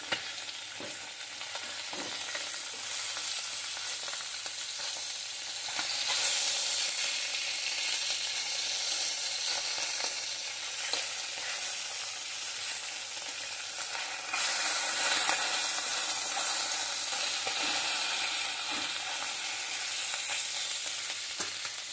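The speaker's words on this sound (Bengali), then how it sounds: "একদম অল্প তেল দিয়ে উল্টে পাল্টে নামিয়ে নিচ্ছি।" Fish pieces sizzle steadily in a pan with very little oil while being turned over, a close, continuous crackle with occasional scraping and stirring noises throughout.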